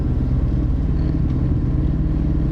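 A running F40 kit car engine stutters and runs badly, a steady low throbbing rumble with uneven pulsing, fairly loud and close with no talk over it.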